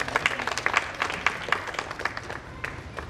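A gathering at an Independence Day function claps in welcome, a few seconds of fairly close, uneven applause with distinct individual claps standing out from the crowd.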